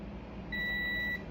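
A continuity tester emits a single steady electronic beep, lasting about half a second, while coil wires on a Rodin coil are probed; quiet low hum sits underneath.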